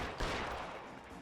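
A single gunshot lands as a sharp burst, followed by a short rough decay, in a brief, fairly quiet excerpt.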